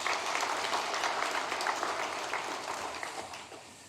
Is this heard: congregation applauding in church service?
yes